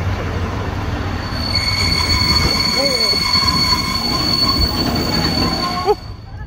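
A train rolls steadily past close by at Chirk, its rumble continuous and high metallic wheel squeals ringing over it, ending with a brief clunk.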